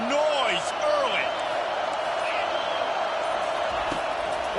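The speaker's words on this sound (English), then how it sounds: "This crowd bringing the energy and noise early." A stadium crowd roars steadily at a college football game in the NCAA 25 video game, a dense, loud wash of noise that holds throughout with commentary over it.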